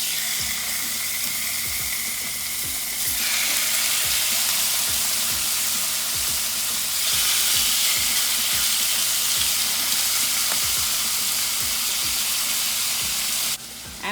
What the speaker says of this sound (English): So I'm going to put a batch of chicken in the pan.